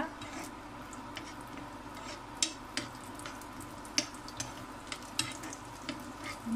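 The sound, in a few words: frying cashews and black raisins in ghee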